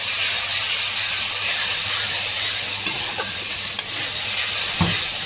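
Ginger garlic paste with a little onion frying in a pan, a loud continuous hiss and sizzle close up, with a few scraping stirs and clicks along the way.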